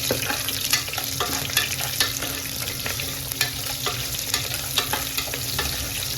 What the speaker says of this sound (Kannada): ಸಣ್ಣಗೆ ಹೆಚ್ಕೊಂಡಿರುವಂಥ ಉಳ್ಳಾಗಡ್ಡಿ, ಇದನ್ನು ಫ್ರೈ ಮಾಡಬೇಕು.